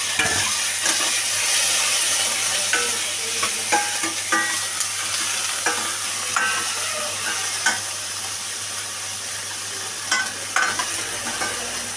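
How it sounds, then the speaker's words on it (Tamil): Two onions, two tomatoes and three green chilies sauté in oil with mustard seeds and urad dal in a pan for Bombay sambar, giving a steady close sizzle with scattered stirring scrapes and clicks, no talking. "ஒரு ரெண்டு வெங்காயம் ரெண்டு தக்காளி மூணு பச்சை மிளகாய் அதையும் போட்டு நல்லா வதக்கிக்கிறேன்"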